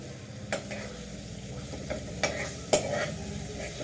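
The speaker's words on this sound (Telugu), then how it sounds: "బాగా గోల్డెన్ బ్రౌన్ వచ్చేంత వరకు మగ్గిద్దాము ఉల్లిపాయలు" Onions frying in a pan until golden brown, with tomatoes about to go in, a steady sizzle beneath a few sharp scrapes and clinks of a spoon stirring against the pan.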